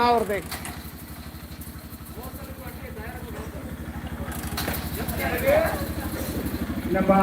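Motorcycle engine at a slow bike race during a Pongal festival, a low steady throbbing idle running the whole time with a slight swell near the middle, under shouting and chatter from the crowd.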